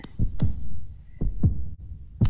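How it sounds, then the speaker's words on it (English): Heartbeat in the game Hollow Knight, several heavy low thuds in paired lub-dub rhythm, close and prominent against near silence, with no voices. "Got dead silence except for a heartbeat."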